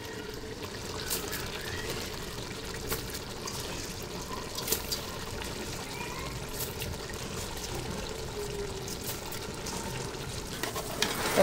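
Washed kalijira polao rice pours into a pot of browned cooking meat, giving a faint continuous gritty sizzle and trickle with scattered small clicks, no voices.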